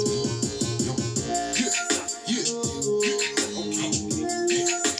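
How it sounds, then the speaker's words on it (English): A busy grime instrumental with punchy, choppy synth stabs over a driving beat, loud and continuous with no voices. "Listen to that synth, it's fucking wild."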